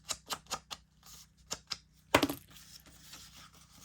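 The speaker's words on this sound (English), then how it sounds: "Let me do a little bit of distressing around the edges to lift it off the book page a little bit." Paper page edges being distressed and roughened by hand over a book page: a series of short, crisp scratchy strokes in an uneven rhythm, then one louder crackling rub followed by softer rustling, close and with no talk.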